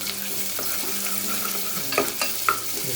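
Onions and golden garlic sautéing in a pan, a steady frying sizzle with a few spoon scrapes and knocks as they are stirred, close and alone without talk.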